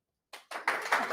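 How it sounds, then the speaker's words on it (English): An audience at a radio food segment in Orange County claps, starting after a brief silence with a few separate claps that quickly build into steady, close applause. "I think they're all just clapping."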